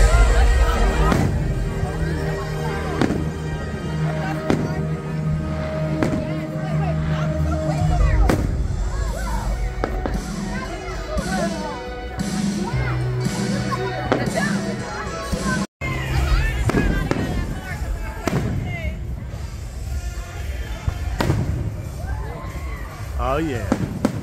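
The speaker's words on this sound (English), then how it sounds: "We're out here on Wednesday for the fireworks" Independence Day fireworks at the Carowinds amusement park burst in repeated loud booms and crackles, some close and some farther off, over crowd chatter and people talking nearby.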